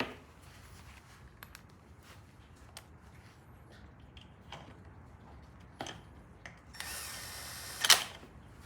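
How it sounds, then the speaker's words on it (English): Ratchet clicks while bolts go back into motorcycle triple clamps, faint intermittent ticking and rattling spread across the clip with a slightly louder mechanical burst near the end, no talk. "Now I'm just going through and reinstalling the bolts that I cleaned on the triple clamps, not tightening them up or anything"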